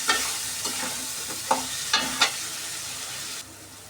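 Fried potatoes and eggs are sautéed in a hot pan: a steady, bright sizzle runs throughout, with a few sharp scraping clicks from stirring, close and without voices.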